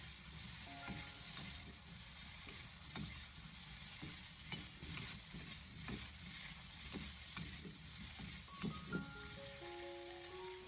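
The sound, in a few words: beef brisket stir-fried over low heat with sauce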